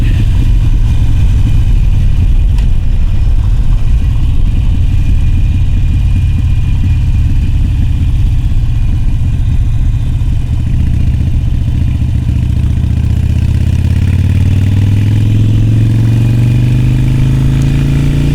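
A Harley-Davidson Iron 883 motorcycle engine runs steadily and loud throughout while riding in rain and fog, its low rumble rising in pitch toward the end as it accelerates, with no voices.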